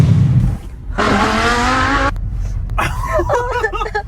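A 2024 Tesla accelerating hard in reverse, a loud electric motor whine rising in pitch with tire noise, followed by wavering tonal sounds as the car keeps pulling backward.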